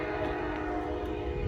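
A short train rolls past on a railroad track, making a steady rumble with a tonal hum throughout a brief, continuous stretch.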